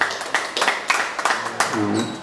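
An audience applauds as a singer is welcomed at an event with President Kagame, scattered claps swelling in uneven bursts, with a voice briefly rising near the end.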